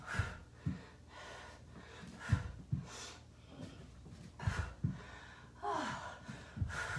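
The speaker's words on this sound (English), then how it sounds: "Keep breathing out." Heavy breaths pushed out during a full-body barre workout, a steady series of forceful exhales and sharp inhales repeating roughly every half second to second, close and fairly loud with no speech.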